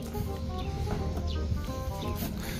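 Gamecocks penned in crates for feeding before a first derby, a few nearby roosters clucking and murmuring in short uneven calls over a steady rustling background, with no talk.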